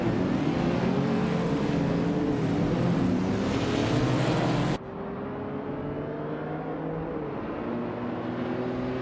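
A 1977 AMC Pacer X race car's engine roars at the Tsukuba circuit as a loud, steady drone, which drops abruptly midway to a lower, quieter engine hum with no talk.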